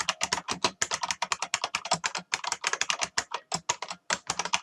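Steady fast typing on a computer keyboard while entering code, close and crisp with irregular clusters of key clicks and brief pauses, no talking.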